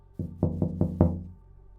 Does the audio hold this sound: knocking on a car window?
yes